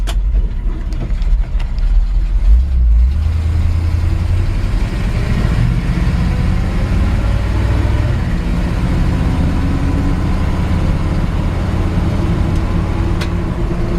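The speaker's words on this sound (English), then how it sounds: "This short bed Chevy C-10 has a V8 automatic transmission that shifts nice and smooth." A 1965 Chevy C-10 short-bed pickup with a V8 and automatic transmission drives along, its engine a steady low rumble heard from close by, with no talking over it.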